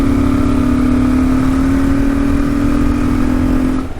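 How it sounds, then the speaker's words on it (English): A 2022 Kawasaki KLR650 motorcycle engine with its airbox snorkel removed runs flat out, a loud, steady, close drone with a strong tonal hum that holds for about four seconds before dropping slightly at the end. "So it sounds quite good when you're riding the bike."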